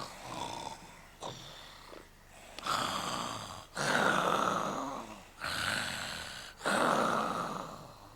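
A group of children mimic a wolf snoring loudly during a Little Red Riding Hood story. Their voices imitate the snores in about five long, rhythmic rasping breaths, each followed by a brief pause.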